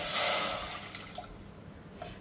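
Water pours into a measure for ragi and rice flour dough for modak: a brief splashing rush at the start that tapers into a few faint drips.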